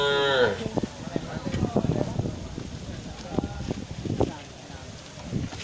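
Aceh cattle at a cattle market low and moo, one short call at the start, then a busy mix of scattered thuds, wind on the microphone and people talking throughout.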